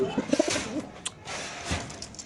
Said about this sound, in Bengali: তারপরে এখানে আছে এক জোড়া কবুতর মাশাআল্লাহ দেখতে পাচ্ছেন